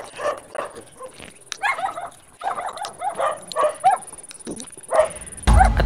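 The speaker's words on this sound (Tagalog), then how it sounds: "Oh, may aso" A dog barks and yips repeatedly at close range, its short bursts coming in quick runs across several seconds, with a loud thump near the end.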